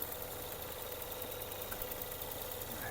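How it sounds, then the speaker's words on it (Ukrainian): A 2016 Ford Fusion Titanium's 2.0-litre petrol engine, automatic, 190,000 km, idles steadily and evenly at close range, a continuous hum with a low rumble and no interruptions or talking. "Подивіться, як частенько рівненько працює двигун."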